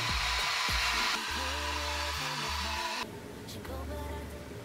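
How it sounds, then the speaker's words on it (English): A hair dryer fitted with a diffuser whirs steadily at close range, its pitch and airflow shifting as it is moved and adjusted, then dropping to a lower setting. "You gotta get your blow dryer and make sure that it has a diffuser."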